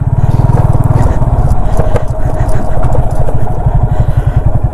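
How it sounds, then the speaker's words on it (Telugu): Motorbike ridden off-road on a day trip near Bangalore, its engine droning loudly and steadily throughout with low harmonic rumble, occasional scraping and rattling over rough ground. "మొత్తం బైక్తో ఆఫ్ రోడింగ్"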